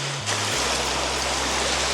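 Steady rushing water fills a campsite pool area with a lazy river, a loud continuous broadband wash of splashing and flow with a low hum beneath and no talk.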